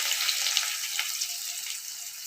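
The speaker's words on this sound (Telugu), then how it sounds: "ఇది బాగా మంచిగా ఫ్రై చేసుకుందామండి ఉల్లిపాయ బాగా ఫ్రై అవ్వాలి" Chopped onions and garlic cloves fry in oil in a pan, giving a steady, close bright sizzle with light crackles and no pauses.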